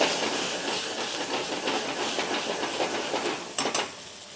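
Diced onion hits hot oil in a pan and sets off a loud, steady hiss and crackle of frying. Sharper spits and sizzles flare up near the end.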